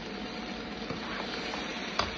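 Potatoes fry in a pan as a steady, close sizzle, browning until slightly charred, with a faint clink around the two-second mark.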